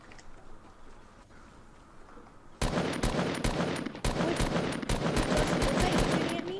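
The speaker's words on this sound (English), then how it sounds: "Is that you shooting at me?" Rapid automatic gunfire in a video game, starting loud and close after a few seconds of quieter background noise, then continuing in quick repeated bursts.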